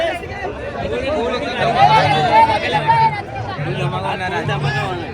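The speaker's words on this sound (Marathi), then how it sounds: "बघू शकता किती गर्दी झाली" A dense crowd at a bullock cart race produces loud, continuous chatter and overlapping voices, with shouts and cheers rising and falling close by.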